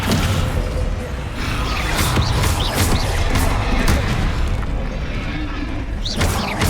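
Confringo blasting-spell explosions in Hogwarts Legacy, loud rumbling booms and bursts layered densely over one another throughout, with brief whooshing streaks.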